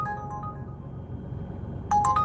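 Smartphone ride-request alert from the 99 ride-hailing app, a short bright electronic tone at the start, then a louder trio of beeps near the end, over low car-interior rumble with no talk.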